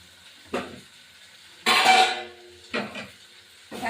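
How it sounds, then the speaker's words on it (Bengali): Potato pieces drop into a pot of goat mutton one handful at a time, making four separate clattering thuds with quiet gaps between them, the second the loudest and longest. "এই যে ধরো এখন আলুগুলো আমি দিয়ে দিলাম।"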